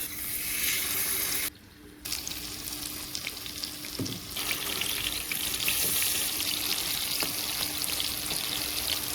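Dragon fruit pakora frying in hot oil, with a loud steady bubbling sizzle close up, briefly dipping before resuming, and a single clink partway through.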